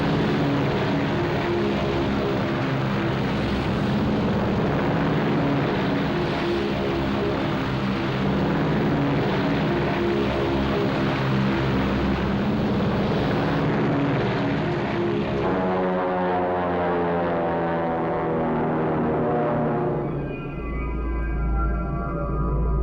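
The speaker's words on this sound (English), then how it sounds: "At 1700 hours, Spruance launched his aircraft from the Hornet and Enterprise." WWII carrier aircraft launching from the decks of the Hornet and Enterprise, the propeller engines droning loudly and steadily, then rising in pitch as a plane roars past and pulls away.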